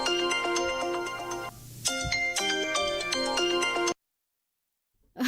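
A mobile phone ringtone plays a loud electronic melody for about four seconds, with a short dip partway through. It then cuts off into silence before a voice begins.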